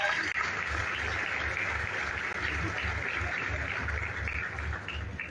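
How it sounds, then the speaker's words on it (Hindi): Steady, sustained applause from an audience at a defence exhibition inauguration in Maharashtra, honoring Sunil Rane, a loud, dense clapping wash that holds for several seconds with faint crowd murmur. "इसलिए सुनील राणे जी के लिए जरा जोरदार तालियां हो जाए"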